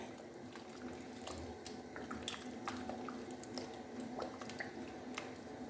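A spoon stirs a Chinese vegetable soup after about a litre of water has been poured in, giving a steady, soft sloshing and squishing with faint drips that continues throughout.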